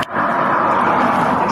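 Cars at a trailhead parking area produce a steady, loud broadband roar of engine and road noise that runs continuously and close throughout, with no voices.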